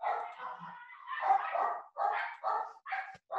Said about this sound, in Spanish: Tengo las perras ladrando